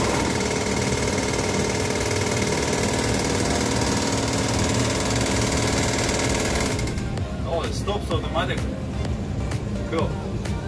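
A Boeing 737 stick shaker stall warning rattles during a landing on an airspeed-unreliable approach: a loud, continuous mechanical buzzing rattle for about seven seconds, then it stops and a voice talks.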